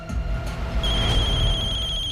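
A telephone rings with a bright, electronic tone, sustained and close, over a low background hum.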